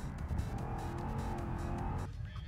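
Car engine in a racing video game, a steady droning roar with tire noise that holds at a constant pitch before dropping off abruptly near the end, moderately loud with no talking.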